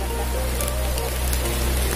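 Steady rain falls during a fishing outing, a dense continuous hiss of drops on surfaces filling the whole stretch at a constant moderate level with no clear speech.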